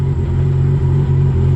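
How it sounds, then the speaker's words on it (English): A Nissan Skyline R34 GTR sits idling close by, its engine giving a steady, deep, even rumble with small regular pulses and no talk over it. "Fucking car idles beautiful."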